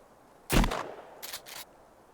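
Gunshot in the video game Sons of the Forest: one sharp, loud report followed by two quicker, fainter mechanical clacks.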